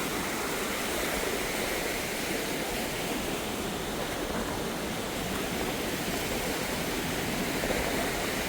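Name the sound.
Niagara Falls waterfall roaring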